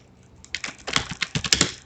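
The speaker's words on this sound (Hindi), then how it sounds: "देखिए, मैं टाइप करके देखता हूँ, ये टाइपिंग कर रहा है।" Fingers tap out a quick, uneven burst of keystrokes on a computer keyboard, close and crisp, growing busier after a quiet start with no talk over it.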